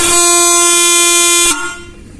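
A modified bike horn blares one loud, sustained, buzzy tone for about a second and a half, then cuts off abruptly, leaving faint background noise.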